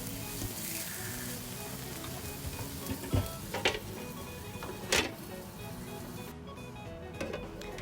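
Butter sizzles in a frying pan as food cooks, a soft steady crackle with a few louder clicks and taps from utensils, fairly quiet throughout.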